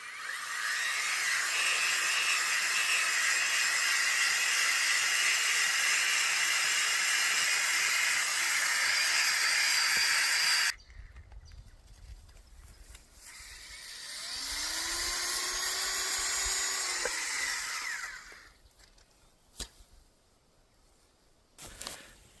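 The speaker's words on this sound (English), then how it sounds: "I had a lot of pleasure showing him this electric drill that I brought to dig a nice easy hole" An electric drill bores a hole into the ground at a riverside campsite on the Avon River in Western Australia, a loud steady whine and grind running for about ten seconds, then stopping before a quieter second burst.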